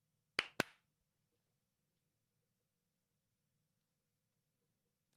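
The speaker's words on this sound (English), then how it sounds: "Let's just clap." Two sharp hand claps close together ring out near the start of a quiet podcast recording, followed by several seconds of near silence.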